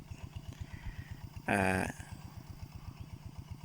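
A walk-behind tractor, known locally as an iron buffalo, works among cassava plants with a steady, rapid put-put of single-cylinder pulses. A brief louder tonal burst briefly rises over the engine partway through.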